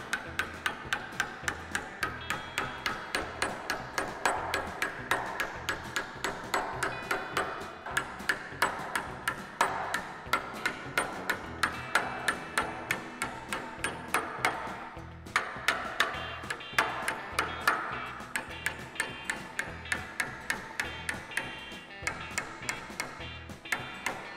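A body hammer strikes sheet metal while forming a curved flange, tapping the tops of wrinkles in a steady rhythm of sharp, ringing metallic blows, close and fairly loud, repeating for about twenty-five seconds without speech.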